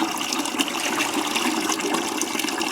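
Water siphoned from a fish tank pours steadily into a bucket, a loud, continuous splashing gush with no talking over it.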